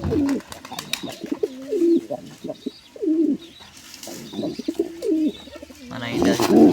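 A male pigeon in a nesting box over its eggs gives a series of soft, throaty coos in repeated bursts, close by, with faint background sounds between them.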